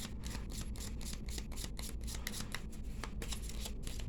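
A tarot card deck shuffled by hand, a dense continuous riffle of rapid flicking card edges, close and even throughout with no voices.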